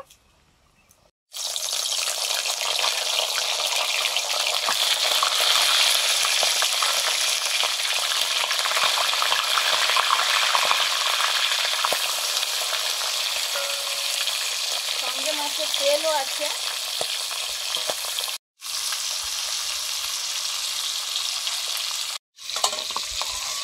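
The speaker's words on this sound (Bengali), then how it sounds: "রুই মাছের মুড়োগুলো নুন, হলুদ, লঙ্কা গুঁড়ো মাখিয়ে নিয়েছি ভাজার জন্য" Rohu fish heads coated in salt, turmeric and chilli powder sizzle loudly in hot mustard oil, a steady crackling hiss that runs almost continuously, with brief gaps and a short spoken remark partway through.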